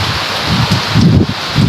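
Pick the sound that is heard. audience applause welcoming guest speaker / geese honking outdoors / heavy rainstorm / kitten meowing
heavy rainstorm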